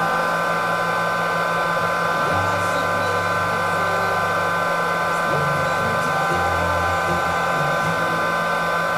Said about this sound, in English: you can use a little hair dryer to speed up the process